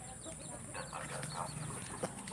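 Chickens at a rural village farm pen cluck in short, soft bursts, moderately distant over a steady background hiss, with a few sharper clucks scattered across the brief moment.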